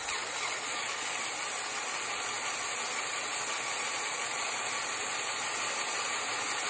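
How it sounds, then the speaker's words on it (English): A faint, continuous mechanical whir with a steady hiss and light clicking from a Lego model car's engine and gears turning; no speech. "Put it in gear with the engine"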